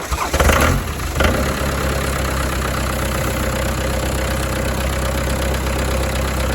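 An old abandoned van engine cranks hard on a boost pack, a loud grinding burst that briefly catches, then settles into a steady rough running drone with no talk.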